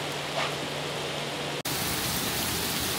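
Steady rain pours down on a street in Japan, a dense continuous hiss that swells abruptly louder partway through after a brief dip, with no voices.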